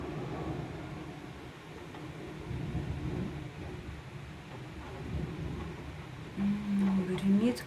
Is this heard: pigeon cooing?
no